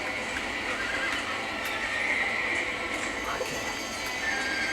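Horses in a barn in the video game Red Dead Redemption neigh and whinny over a steady, dense background clamour, with calls rising intermittently throughout.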